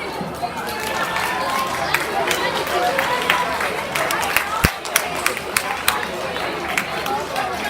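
Applause at an athletics banquet, a steady wash of clapping mixed with crowd chatter and a few sharper individual claps standing out, moderately loud throughout.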